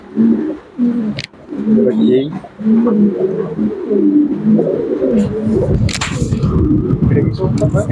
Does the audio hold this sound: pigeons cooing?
yes